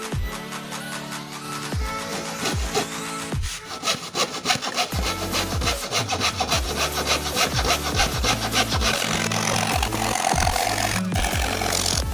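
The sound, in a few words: jigsaw cutting thick plywood for 12-inch speaker hole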